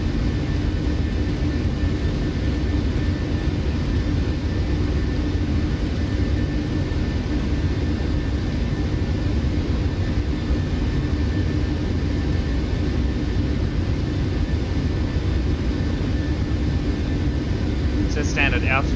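Qantas airliner descending in the FSX flight simulator, a steady cabin-like engine drone that holds level throughout, with a voice talking over it.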